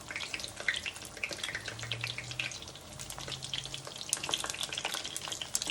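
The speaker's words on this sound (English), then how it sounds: "I'm going to pull the pan up, even though it's popping everywhere." Buttermilk-battered cauliflower frying in hot grease in a pan, with a steady close sizzle and scattered sharp pops and crackles throughout.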